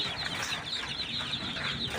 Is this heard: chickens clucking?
yes